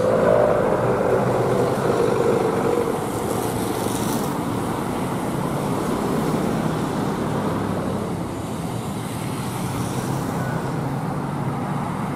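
A Primajasa intercity bus on the Tasikmalaya–Lebak Bulus route drives along a road, its steady engine drone and tyre roar mixing with continuous traffic noise, loud and close throughout.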